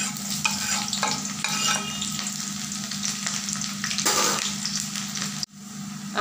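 Garlic and onion fry in a pan for a kalsi saag and potato bhujia, giving a steady sizzle with stirring scrapes throughout and a brief dip near the end; no one speaks.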